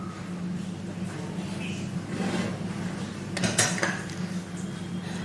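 Mutton mughlai ingredients are stirred and mixed in a pot, with a spoon scraping and clinking against the metal over a steady low kitchen hum.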